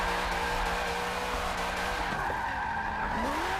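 Continuous tire squeal and skidding from a car drifting in the Forza Horizon racing game, played on a G920 wheel, with a steady engine drone under sustained screeching that wavers in pitch, loud and close throughout.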